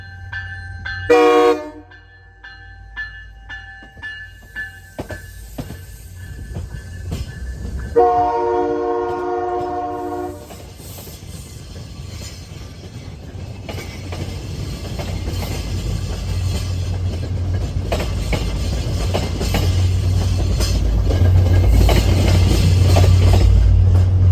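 A commuter rail train at Needham Heights sounds its horn in short bursts, then rumbles past close by, the rolling roar of its cars building and staying loud to the end.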